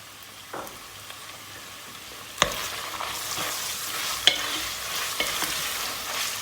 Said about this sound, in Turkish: Soğanı etle beraber kavurmaya devam ediyoruz.